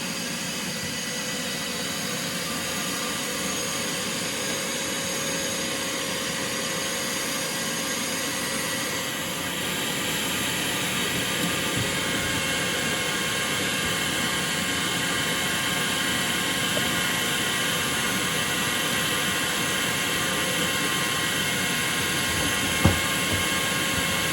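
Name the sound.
vacuum running on blast cabinet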